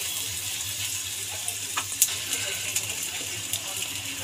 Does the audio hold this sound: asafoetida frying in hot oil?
yes